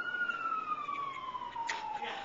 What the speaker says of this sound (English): Do you hear the siren?